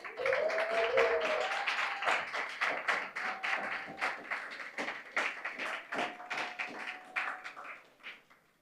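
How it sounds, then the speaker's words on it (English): An audience applauds at a scholarship award ceremony, a thick wash of clapping that slowly thins and fades out toward the end, with a faint tonal sound and brief talk mixed in. "Keep the applause going for Miss Danielle Wallace"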